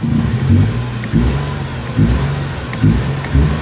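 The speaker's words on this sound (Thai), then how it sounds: "เหยียบเบรกกดปุ่มสตาร์ทนะครับ อ่าติดเรียบร้อยครับผม" A Nissan March engine started by push button, then running close and loud, its note surging in a rough rhythm of about four bursts over a few seconds with no talk.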